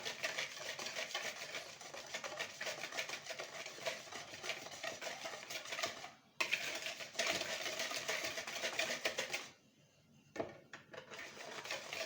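Banana cake batter is beaten by hand in a bowl, a steady rapid scraping and tapping whisk rhythm, faint and continuous with two brief pauses.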